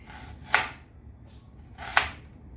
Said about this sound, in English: this is how you cut your onions